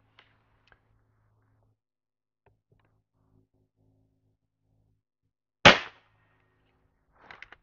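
A single sharp, loud report from a Niksan Tacto-S .22 calibre air rifle fired indoors near a chronograph, followed by faint clicks and rattles of handling in otherwise near silence.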